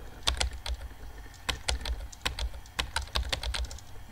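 Keyboard typing from the game Emily is Away comes as quick, close clicks of keys in irregular bursts and short pauses, crisp against quiet background, with no voices.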